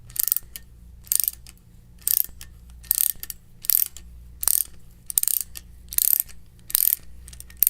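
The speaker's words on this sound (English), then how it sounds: "fully retract the flaring cone by rotating the feed screw counterclockwise" The feed screw of a Uniweld 70071 flaring tool turns to retract the flaring cone, giving a steady series of sharp metallic clicks in a regular ratcheting rhythm, close and alone.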